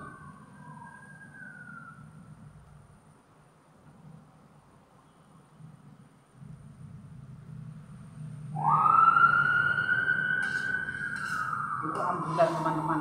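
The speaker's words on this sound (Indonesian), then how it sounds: "Itu ambulan, teman-teman." Ambulance siren outside, faint at first, then a loud rising wail that sweeps up and holds, with a rumble of traffic and some nearby voices underneath.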